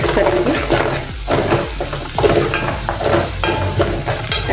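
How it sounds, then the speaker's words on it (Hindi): A spoon stirs red chili, turmeric and coriander powder into sizzling cluster beans in a pan, with steady scraping and light clinks of utensil against metal under a constant frying hiss. "लाल मिर्च पाउडर डालेंगे, हल्दी डालेंगे, धनिया पाउडर डालेंगे 1 चम्मच। अच्छे से मिक्स करेंगे।"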